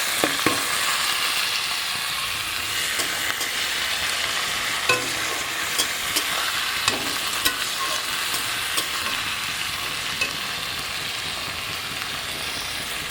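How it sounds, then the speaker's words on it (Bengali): Chopped onions fry with a bay leaf in hot oil in a home kitchen. A steady sizzle runs throughout, punctuated by intermittent scraping clicks of a spoon stirring the pan, and no voices are heard. "পেঁয়াজটা একটু ভাজা করে নিই"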